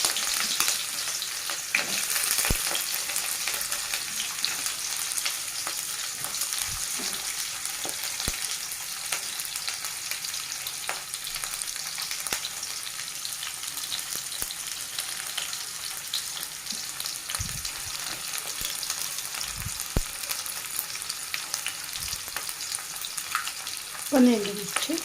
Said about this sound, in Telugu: ఆవాలు జీలకర్ర వేగిపోయాయండి